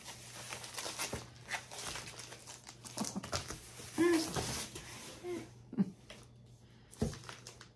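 Soft crinkling and rustling of packaging as aroma products such as Nag Champa incense are unwrapped nearby, with faint scattered taps and shuffles under low background hum.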